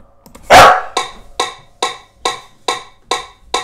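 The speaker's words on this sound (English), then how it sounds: "You might have heard my dog growling, barking." A dog gives one loud, rough bark, then a steady series of sharp barks at an even, quick rhythm, close by with no other sounds.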